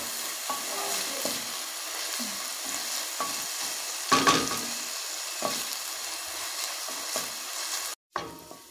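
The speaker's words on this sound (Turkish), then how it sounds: "Tekrardan şöyle biberlerimizi birlikte kavurmaya devam edelim." Peppers sizzle and fry in a pot, for a spinach and bulgur dish, while a utensil stirs and scrapes now and then, steady crackling throughout with no speech.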